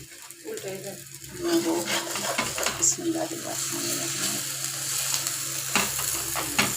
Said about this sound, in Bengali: এই যে ডিমের আসল ভাজা হলো এরকম ডিমটা লাল লাল হবে